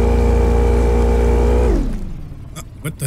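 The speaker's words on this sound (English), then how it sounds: "Man, this boat is loud." A loud, steady video-game fishing boat motor drone with strong harmonics runs, then suddenly cuts out, leaving quieter background noise and a few faint clicks.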